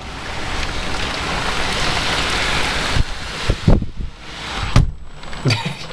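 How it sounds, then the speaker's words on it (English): Heavy rain pours down during a London storm, a loud dense roar for the first few seconds that then breaks into bursts and knocks on a flooded road nearby. "It's been raining 3 minutes, if that."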